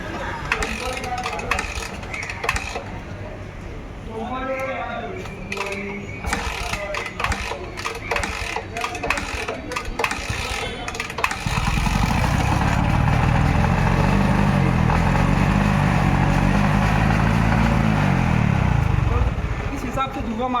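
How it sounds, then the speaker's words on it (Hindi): TVS XL100 moped engine started and then running, a loud steady low rumble taking over after clicks and rattles, with someone talking over the start. "आपको गाड़ी स्टार्ट करके दिखाता हूँ कितना धुआं मारता है।"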